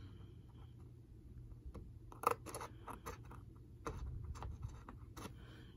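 Scissors snip out a clear envelope by hand, producing a few faint, close, crisp cuts with quiet rustling between them.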